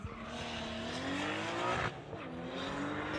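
Kia Elantra and Volkswagen drag racing down a street-legal strip, engines roaring loud and continuous with rising pitch as they accelerate, a brief tire squeal in the middle.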